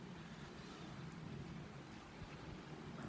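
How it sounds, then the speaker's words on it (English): A creek running full with snowmelt, a low, steady rushing roar heard faintly from nearby, continuous throughout. "The creek in front of me here is full"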